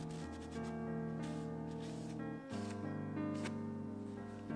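Mink oil is rubbed by hand into a leather coin pouch, giving a close, steady friction sound with soft, rhythmic strokes and a brief pause midway, set against a faint tonal background.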